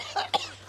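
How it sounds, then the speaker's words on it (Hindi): Two quick, close coughs from a man in quick succession, short and sharp, with nothing else around them. "अरे भाई खांसी आवत है"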